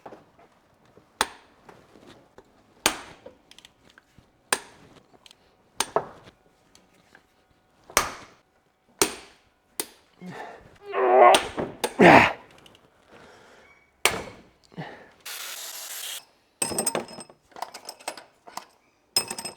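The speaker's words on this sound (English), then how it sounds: "Now I need to loosen the head bolts. As always, inside out. Little by little each." Cylinder head bolts loosened one by one on a BMW E92 engine, heard as sharp isolated metallic clicks and ratchet clacks spaced out, with a longer burst of rattling wrench work midway, close and otherwise quiet.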